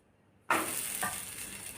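Oil hits a hot pan under a potato-and-poha paratha and breaks into a sudden bright sizzle that keeps frying steadily, with a second spurt of crackle a moment later.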